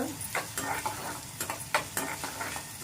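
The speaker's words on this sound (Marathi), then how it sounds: "कढीपत्त्याची पाने व लसूण घातल्यानंतर कांदा गुलाबी रंगावर होईपर्यंत" Onion, curry leaves and garlic fry in hot oil in a pan, a steady close sizzle with repeated scraping strokes of a spoon stirring, without talk.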